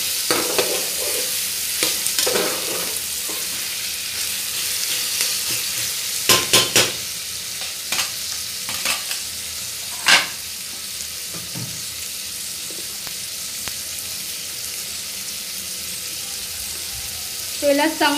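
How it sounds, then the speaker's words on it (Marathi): Carrots stirred into fried onion in hot oil with a spatula: steady close sizzling throughout, punctuated by scraping stir strokes against the pan, with no talking. "कांदा भाजून झाला की यात आपण हे गाजर घालूया। परतून घेऊया चांगला व्यवस्थित।"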